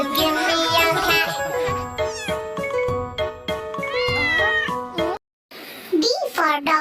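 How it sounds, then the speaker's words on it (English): A ginger cat meows repeatedly in a children's alphabet song, its cries blended with sung music, bright chimes and a voice, loud and continuous with only a brief drop near the end. "Cat meow, ginger cat meow."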